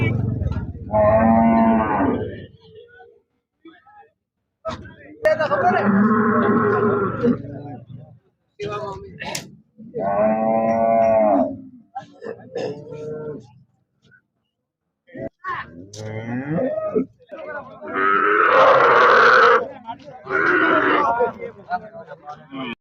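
Cattle moo loudly and repeatedly at a free veterinary camp in a village, with several long, close calls separated by pauses and faint background voices between them.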